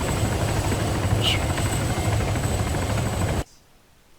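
A helicopter engine in the video game ArmA 3 drones loud and steady with a dense rotor buzz, then cuts off abruptly near the end; someone speaks briefly in French over it.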